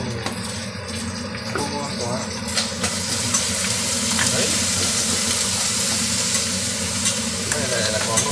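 Crab being stir-fried with salt and chili in a hot pan, a steady loud sizzle with scraping stirring strokes throughout, and faint voices in the background.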